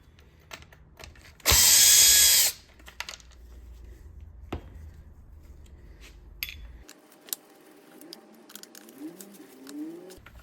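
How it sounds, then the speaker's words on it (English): Power drill removing manifold screws on a Stihl MS 201 T chainsaw, with one loud whirring burst of about a second early on, followed by quieter handling clicks and cooing pigeons in the background. "Go ahead and remove the 4 screws that hold on the manifold so you can take it off."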